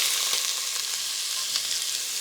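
Onions frying in oil with curry leaves for a Chettinad mushroom gravy, giving a steady, dense, close sizzle with a few faint stirring touches.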